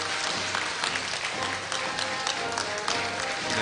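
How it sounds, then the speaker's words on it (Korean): Audience applause at a Korea University degree-conferment ceremony, a dense, sustained roar of many hands clapping in a large hall, loud and even throughout with no talking over it. "여러분 축하의 박수 부탁드립니다"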